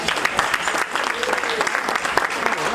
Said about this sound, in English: So give Ms. Babette a round of applause